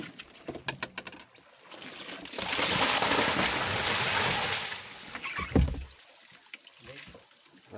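Water poured out of a basin in a gushing splash of a few seconds, preceded and followed by quiet clattering, with a thud near the end and faint voices around.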